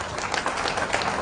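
Brief burst of audience applause at a seminar and closing ceremony for a women's football tournament, scattered claps from a moderate crowd, fairly soft and steady.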